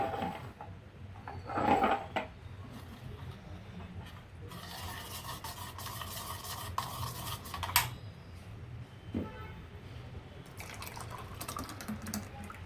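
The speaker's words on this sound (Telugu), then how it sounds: "ఇప్పుడు మనం గ్లాసుల్లోకి వేసుకుందాం దీన్ని" Watermelon juice mixed with lemon juice, pepper powder and honey is poured into glasses, a faint trickling and splashing of liquid with a few clinks and drips, close and quiet.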